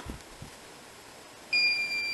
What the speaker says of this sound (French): on entend tout de suite le bip de début, donc l'initialisation